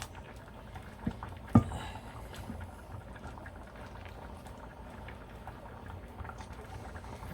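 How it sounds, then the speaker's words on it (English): A pot of blood pudding bubbles at a low, steady boil, a faint continuous simmer with a couple of brief knocks near the start. "you don't want it to bust while it's boiling"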